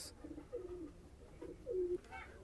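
Soft, low pigeon coos repeat several times in a gentle rolling rhythm, close by, with faint background rustle.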